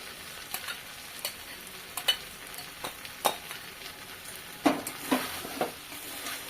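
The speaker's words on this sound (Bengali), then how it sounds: "আবারও কষিয়ে নেব। বেশ কিছুটা সময় নিয়ে নাড়াচাড়া করে রান্না করে নিয়েছি।" Mashed boiled potatoes fry with cooked peas in a pan for ghugni, a faint sizzle under repeated scraping stirs of a spatula, each scrape a short sharp stroke at irregular intervals, close by and without talk.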